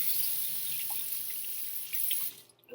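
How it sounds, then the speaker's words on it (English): Tap water runs steadily into a sink during handwashing, a continuous broadband hiss that shuts off near the end. "I'm gonna turn on the water and put on the soap."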